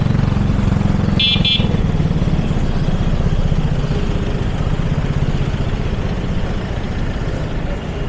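A small vehicle horn gives a brief double toot early on, close and clear above a continuous loud motor rumble that runs throughout.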